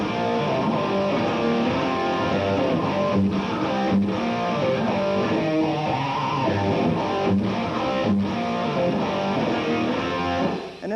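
A fast, pivot-note electric guitar lick from a shred-style hard rock lesson, played as a dense, continuous run of notes with light distortion, loud and close, with no talking.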